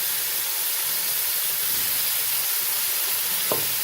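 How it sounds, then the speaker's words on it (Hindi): Pork trotters frying in hot oil with garlic and whole garam masala, a loud continuous hiss and sizzle held steady throughout, close up, with one brief knock near the end. "लहसुन फ्राई हो चुका है, अब इसमें पाए शामिल करेंगे।"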